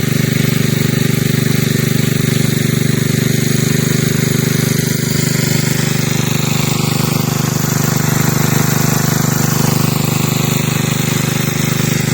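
A motorcycle engine idles close by, a loud, steady, unbroken hum with a constant low drone that holds for the whole stretch.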